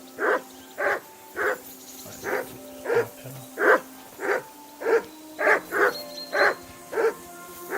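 A dog barks repeatedly at a steady pace in a video game, over a dozen sharp barks in a row, fairly loud and close, with no talking.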